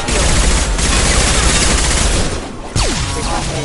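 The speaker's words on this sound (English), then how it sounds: "Shoot them before they take out the" Dense, loud gunfire in the video game Mass Effect Legendary Edition, sustained overlapping shots in rapid bursts with a brief lull near the end before firing resumes, with a falling whine cutting through.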